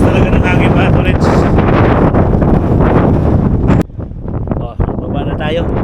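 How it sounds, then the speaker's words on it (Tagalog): Loud wind buffets the microphone in a roaring rush, dropping suddenly near the end to a softer gusting breeze. "Lakas talaga ng hangin"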